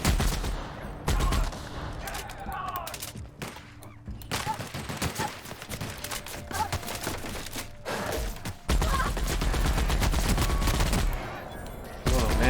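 Loud, sustained automatic gunfire from a weapon in the video game The Outer Worlds, with dense rapid bursts and heavy impacts running almost without pause through the whole stretch, some brief gaps between volleys.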